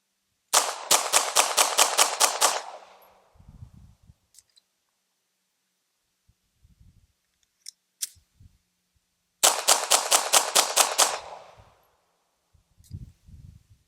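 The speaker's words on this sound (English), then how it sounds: "let's shoot it as quick as we can and see if we have any issues" Bersa Thunder .380 pistol fired at a range in two rapid strings of about eight shots each, sharp, loud cracks close together, separated by quiet gaps with faint handling clicks and rustles.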